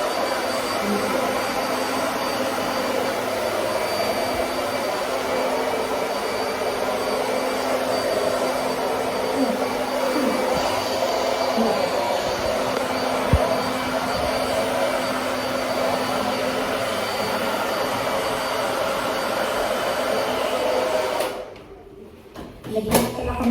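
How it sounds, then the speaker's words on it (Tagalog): A hair dryer blows with a loud, constant whirring roar for about twenty seconds, then switches off abruptly and a brief rustle follows. "Blower muna tayo."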